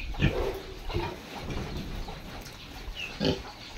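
A pig on a farm being dosed by mouth with paracetamol tablets, giving several short grunting squeals close by, with scuffling between the calls.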